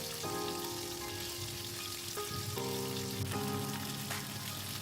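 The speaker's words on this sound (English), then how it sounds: "when the oil is hot enough, we will add the Tangra fish and fry them until they turn light golden brown from both the sides." Tangra fish fry in hot mustard oil with a steady, even sizzling hiss that runs throughout, while soft tonal music plays quietly underneath.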